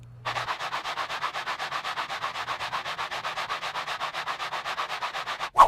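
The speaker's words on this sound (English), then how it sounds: "I only want to sand just enough to level the kerfed lining with the sides." A steady back-and-forth rasp of sandpaper levelling the kerfed wooden lining of a guitar rim against its sides, rapid even strokes close by, continuous throughout and ending in a brief louder scrape.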